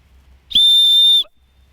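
Decathlon Evadict trail running backpack safety whistle blown once, a piercing, steady shrill blast lasting just over half a second, loud and close, with silence around it.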